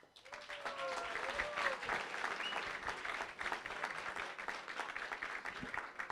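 Crowd applause at a bench press championship, a dense, sustained wash of clapping that swells and holds for several seconds, with faint voices and a brief tonal whistle-like sound mixed in early on.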